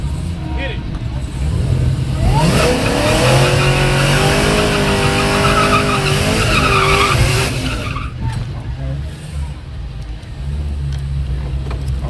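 Small-tire cars drag racing at Yello Belly Drag Strip, with a loud engine roar rising and sweeping as the cars launch and pull down the strip for several seconds, tire squeal mixed in, then fading to crowd and ambient noise.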